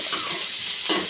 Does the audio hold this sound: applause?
no